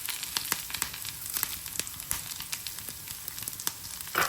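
Curry leaves go into hot oil with browning onions, setting off a close sizzle broken by irregular sharp crackles and pops, with no voices.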